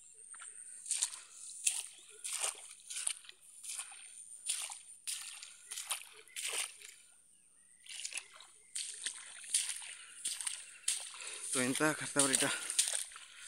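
Rhythmic splashing and sloshing of water in a farm field flooded by heavy rain, like steps wading through it, with people talking over it throughout.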